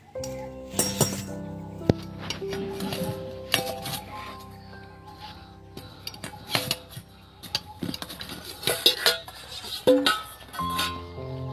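A metal lid comes off a pot of potatoes boiling on the stove, followed by a run of bright clinks and clatters of cookware, some sharp and close, spread unevenly across several seconds.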